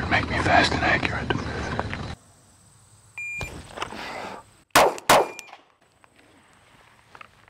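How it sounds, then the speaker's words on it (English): A shooter at a police shooting drill draws a pistol and fires two quick rounds at a target 20 feet away; the two sharp, loud cracks come about a third of a second apart and follow a faint electronic beep. "we're gonna draw and fire two rounds in 2 seconds"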